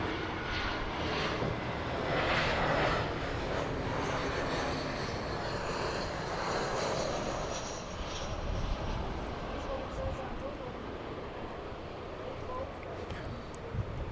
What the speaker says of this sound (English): Got an Airbus A321 coming in from Sacramento,